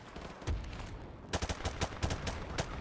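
Bursts of gunfire from Call of Duty 4: Modern Warfare, a cluster of fairly quiet cracks at mid distance after a low-level stretch, with no talking.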